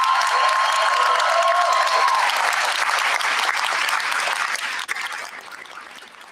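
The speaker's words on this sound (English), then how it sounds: "Please join me in a round of applause for these instructors." Sustained applause from a graduate commencement audience honoring physics graduate student instructors, steady and dense at first, then tapering off toward the end.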